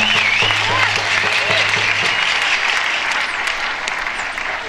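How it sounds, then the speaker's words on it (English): Applause from a crowd at an outdoor rally against the Enbridge pipeline, a steady wash of clapping that tapers slightly toward the end, with faint voices and a brief low hum in the first two seconds. "give yourselves a great big round of applause"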